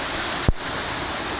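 Steady broadband rush of waterfall water at Thottikona near Tirupati, a continuous roar filling the clip with one brief low thump midway.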